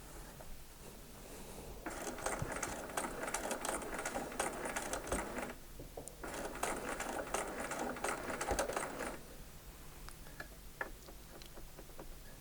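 A sewing machine stitches a quilt seam for an eight-point star in two close, steady whirring bursts with rapid ticking, separated by a short pause and followed by quieter clicks.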